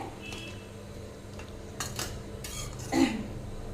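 A spoon stirs cabbage ball gravy in a pan with soft, quiet scrapes and a few light metallic clinks against the pan.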